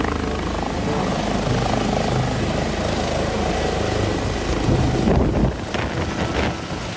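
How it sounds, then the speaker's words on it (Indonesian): A toy helicopter gives off a loud, continuous whirring drone. The sound stays steady and close for several seconds, then thins out toward the end. "Ternyata ini helikopter"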